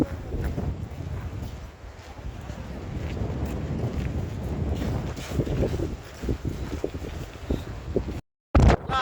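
Strong wind in the Wicklow Mountains roars and buffets the microphone continuously, a heavy rumbling rush with gusts rising and falling, briefly cutting out near the end.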